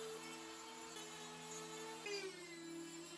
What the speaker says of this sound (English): Then I used a die grinder just to smooth the edges up a little bit and add a few details on